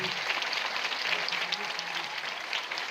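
Studio audience applause on a Turkish comedy show, a steady patter of many hands clapping at moderate distance. It runs evenly for a few seconds without anyone talking over it.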